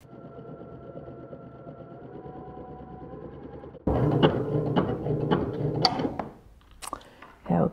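An embroidery sewing machine stitching a monogram starts up after a low steady hum and runs with a loud, close, rapid mechanical chatter before briefly pausing and resuming.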